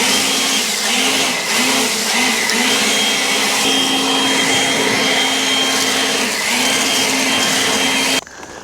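A Wood-Mizer LX25 sawmill cutting hemlock logs makes a loud continuous motorized roar with a steady sawing hum that wavers slightly in pitch through the cut, then cuts off near the end.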